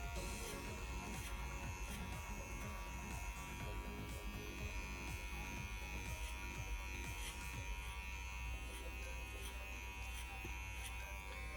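Hair clippers fitted with a number 3 guard cut hair over a comb, giving a steady, close electric buzz with faint rhythmic snips of hair throughout, no talking.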